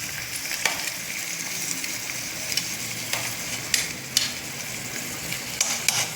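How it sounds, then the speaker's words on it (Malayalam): Garlic and shallots sautéing together in a pan for rasam, a steady soft sizzle with occasional stirring scrapes and light clicks throughout, close and moderately quiet with no talking. "ഞാൻ ഇതിനെ ഒരുമിച്ചാണ് വഴറ്റുന്നത്."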